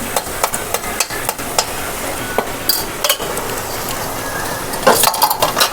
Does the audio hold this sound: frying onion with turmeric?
yes